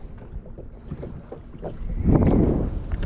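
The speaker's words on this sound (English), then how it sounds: "this wind has just picked up a little bit" Wind picks up over shallow water during fishing and swells into a loud, broad rumble and buffeting. Light knocks and splashes sit beneath it.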